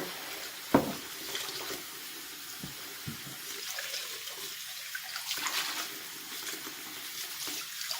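Tap water runs quietly into a sink to cool a hot lanolizing mixture, a soft steady trickle and splash with a few small knocks, heard fairly far off and faint.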